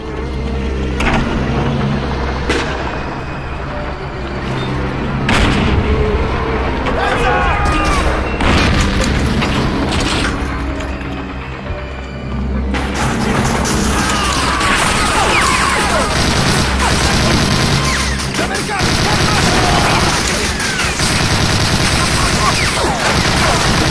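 Cannon blasts and gunfire in the World War II shooter Medal of Honor: Allied Assault, with loud continuous booms, crashes and rapid rifle and machine-gun bursts layered over a dense battle din.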